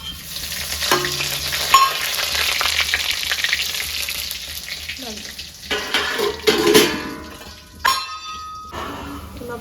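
Garlic and chili sizzle and fry in hot oil in a home kitchen pan, a steady loud crackle broken by a few spoon scrapes and clinks of cookware, with faint voices behind.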